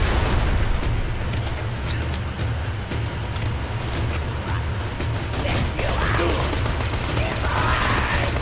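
Chaotic Borderlands 2 combat with a grenade going off amid gunfire, a dense, loud wash of blasts, crackles and mechanical clatter that keeps going without a break.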